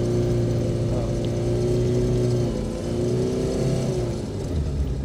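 Fiat 125p 4x4 fitted with a 1.9 diesel engine pulling away, its loud engine drone holding steady then shifting pitch as it drives off, close by and with no talk.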